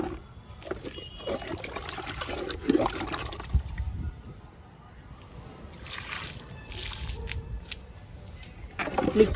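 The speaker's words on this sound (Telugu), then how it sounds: "ఇప్పుడు రెండిటికి లిక్విడ్ ఇద్దాము." Liquid fertilizer made from manures poured into flower tubs planted with lilies and firecracker flowers in a home garden, a close sloshing, trickling pour running steadily, with a voice speaking softly at moments.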